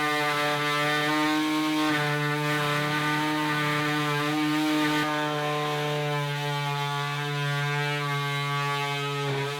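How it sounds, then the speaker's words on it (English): A power tool with a 1-gang box saw attachment cuts an opening in a wall, giving a steady, loud, buzzing whine that holds a constant pitch throughout with no talking. "It's just going to cut out a perfect little box."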